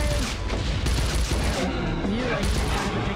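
Rapid bursts of suppressed automatic pistol fire from an indie horror video game, loud and dense over a busy mix of game sounds and music, filling the whole stretch.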